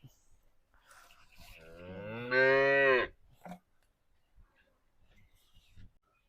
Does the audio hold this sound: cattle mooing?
yes